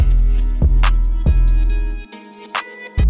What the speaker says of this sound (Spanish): pues es un delay que de hecho suena bastante bien